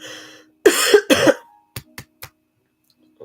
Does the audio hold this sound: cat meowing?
no